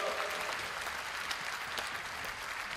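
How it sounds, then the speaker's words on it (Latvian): Dense, steady applause from a concert audience at a Christmas show, a continuous wash of many hands clapping at close range with no pause, a few faint voices mixed in. "Aplausi Rūdīm!"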